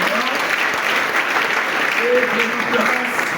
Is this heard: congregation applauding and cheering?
yes